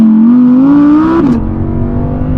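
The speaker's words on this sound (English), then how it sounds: "Oh, the engine, it's so sweet." An Audi R8 rear-wheel-drive engine revs up to 8,500 RPM, its loud, close whine climbing steadily before a sharp shift drops the pitch into a lower, rougher roar.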